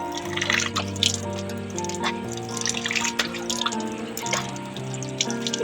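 Water splashing and dripping as a face is rinsed, irregular soft drips and trickles close by at low level, with no talking.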